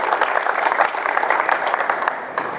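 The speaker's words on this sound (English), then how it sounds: "round of applause for these guys here" Dense, lively applause from a basketball coaching clinic audience for the players who demonstrated defence drills, steady and fairly close, filling the whole short stretch.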